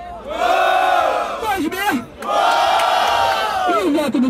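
A large crowd roars and shouts in two loud bursts with a brief lull between, voices merging into a chanting yell, at a freestyle rap battle, Batalha do Tanque.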